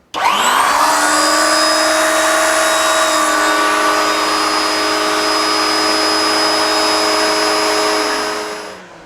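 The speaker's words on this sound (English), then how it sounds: "As with anything, bevel first through your NC beveler." An NC carpet edge bevelling machine runs on thin carpet with a loud, steady motorized whine. The pitch shifts slightly partway through, then the machine winds down and stops at the end.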